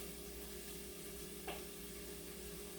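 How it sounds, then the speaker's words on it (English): Shepherd's pie filling sizzles steadily in olive oil in a pan as it is stirred, a close continuous hiss with one brief scrape of the spoon midway. "Stir it around a little bit more"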